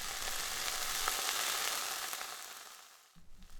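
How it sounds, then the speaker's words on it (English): Food frying in a neighbour's pan gives off a steady, fairly loud broadband sizzle with small crackles, fading near the end before a few brief thumps. "One neighbor loved to cook food in his frying pan, and both the sound and smell would come wafting through their window"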